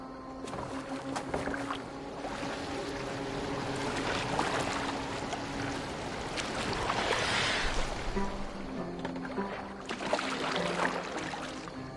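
Boat gliding through water in Assassin's Creed Valhalla, a steady wash of splashing and rushing water with a low hum of motion underneath, swelling slightly midway and again near the end, no talk.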